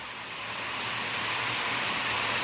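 Steady, dense hiss of heavy rain or falling water, loud and continuous throughout with no voices.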